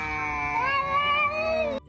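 A cat lets out one long, loud, drawn-out meow with a wavering pitch, close to the microphone, cutting off abruptly near the end.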